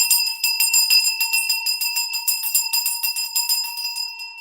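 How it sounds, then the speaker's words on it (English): An old brass school bell rings steadily in repeated close, loud strokes, each bright metallic clang with long ringing overtones, heard alone. "This is like an old school brass school bell"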